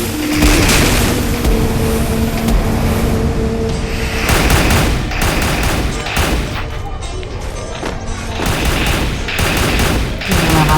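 Gunfire in the Fortnite video game comes in loud, rapid bursts of shots and booming impacts, repeating in clusters across the whole stretch with brief lulls between volleys.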